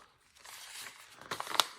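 Sheets of rag paper are handled up close, giving soft, quiet crinkling and rustling that builds into a few sharper crackles near the end.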